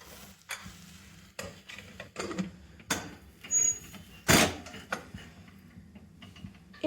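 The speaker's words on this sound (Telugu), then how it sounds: "ఇలా బాగా మిక్స్ చేసేసుకొని విజిల్ పెట్టేయాలన్నమాట." A bisi bele bath mixture of rice, salt and chilli powder is stirred in a pressure cooker, giving scattered scraping and clinking strokes of a spoon against the metal pot, each separated by short pauses.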